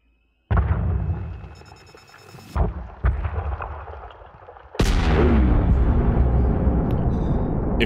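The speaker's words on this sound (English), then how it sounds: "If nothing else, we get to look at a lot of pretty explosions." Loud explosions from detonated charges in a space mining game: a sharp blast opens into rumbling debris, two smaller bursts follow, then a second massive detonation sustains a dense roaring crackle to the end.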